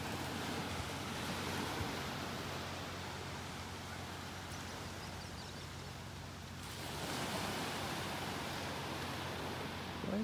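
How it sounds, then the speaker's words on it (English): Calm, gentle waves lap steadily on a shallow shore at a Naples, Florida beach, a continuous broadband wash with light wind, loud and close with no talk. "Lapping on the shore out there."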